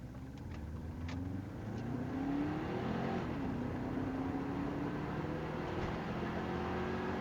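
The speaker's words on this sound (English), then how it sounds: "I'm going to do a second gear wide open throttle run like before" A 1999 Subaru WRX with a manual boost controller pulling hard in second gear at wide open throttle, engine note rising steadily, dipping briefly at a shift-like break, then climbing again, heard from inside the car.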